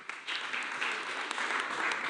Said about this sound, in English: Can we clap for ourselves and the big man?